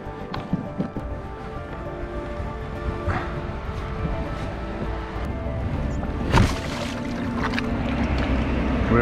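A heavy canoe being launched into water for a wild-camping paddling trip: steady rustling and scraping, with a sharp splash about two-thirds through, then continued water noise close by.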